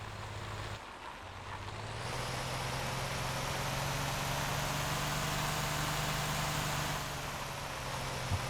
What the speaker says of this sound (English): I wonder if the engine sounds better when it's bigger.